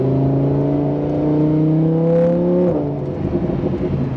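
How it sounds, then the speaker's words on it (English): Lamborghini Huracan with a naturally aspirated V10 accelerating hard, a loud, smooth rising engine note that climbs steadily, breaks briefly at a gear change and then pulls on, heard from on board. "You hit the throttle, the great thing about a naturally aspirated V10 is there is power all the time"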